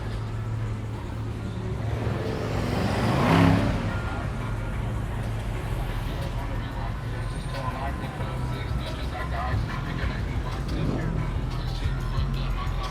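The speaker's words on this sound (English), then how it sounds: "Look at all these cars." Steady street traffic along a busy Miami Beach road during spring break, with cars rumbling continuously nearby and one vehicle swelling louder as it passes, while people talk over the roadway noise.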